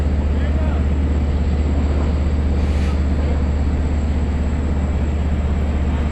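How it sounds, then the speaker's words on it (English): A jet taking off from Suffolk County Gabreski Airport gives a steady, loud broadband roar with a deep rumble that holds constant for the whole clip. "Jet taking off from Suffolk County Gabreski Airport."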